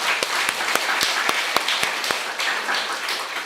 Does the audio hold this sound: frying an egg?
no